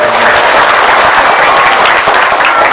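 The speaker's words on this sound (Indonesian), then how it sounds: "tepuk tangan untuk beliau" Loud, close applause for the leader of Pondok Pesantren Al-Furqan Bantar Kaum at a groundbreaking gathering in Brebes, Central Java, a dense steady clapping from a large crowd throughout.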